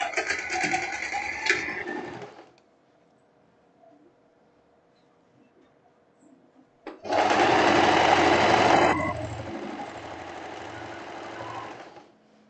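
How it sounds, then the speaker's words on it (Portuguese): Sewing machine stitching a straight seam on the sleeve of a short printed dress, two close, loud bursts of rapid running, a brief one then a longer run, separated by a quiet pause. "Vou juntar agora as minhas laterais da minha manga para eu fazer a costura aqui, ó."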